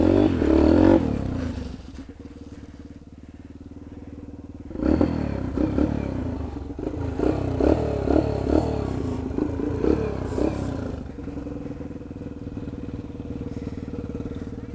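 A dirt bike engine runs on a trail after nearly flooding, buzzing and revving in uneven surges up close with clattering and scraping, first loud and then settling to a steadier drone.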